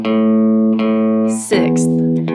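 Guitar notes sound one after another as alternate picking moves across the strings, each pick a clear ringing attack overlapping the last, close and alone.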